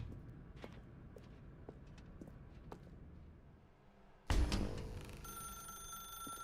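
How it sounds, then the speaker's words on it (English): In The Stanley Parable, a telephone bell suddenly starts ringing loudly after quiet footsteps and faint room noise, then keeps on with a bright, sustained trilling ring. "Now pick up the phone."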